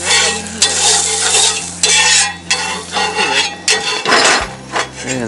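Butter sizzles in a pan over a primitive campfire in the Smoky Mountains during breakfast cooking, a steady close hiss broken by repeated scraping and stirring strokes of a utensil, with no talking.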